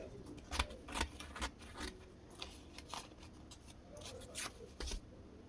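Scissors cut through fabric for a bubu gown, a run of crisp, irregular snips and rustles close by, with quiet gaps between the cuts.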